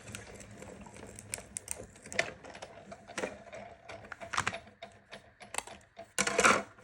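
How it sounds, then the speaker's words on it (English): A Sizzix Big Shot die-cutting machine is cranked as a Hazel snap clip die rolls through, giving quiet, irregular clicks and ratcheting taps, close and without talk. "we're going to roll it through our Sizzix Big Shot"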